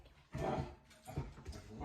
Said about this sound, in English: You getting mad at your bowl, so you're going to growl at it?